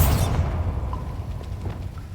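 A Bombarda blasting spell explodes in Hogwarts Legacy: a loud, close burst at the start that decays into a rumbling low tail with faint scattered crackles.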